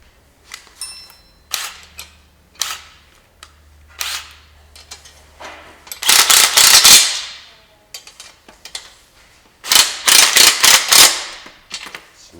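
A pneumatic impact gun drives nuts onto a John Deere advanced chute blocker in sharp, close ratcheting bursts, first a few short taps, then two longer loud rattling runs with clicks between them.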